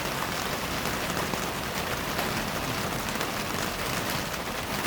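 Steady rain falling outdoors over a garden, a continuous close hiss of drops on surfaces with no break in its level, and no voices.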